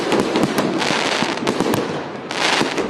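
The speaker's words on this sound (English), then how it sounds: "some letting off their own pyrotechnics" Fireworks and firecrackers popping and crackling continuously during New Year's Eve celebrations in a city, a dense barrage of bangs with crowd noise beneath.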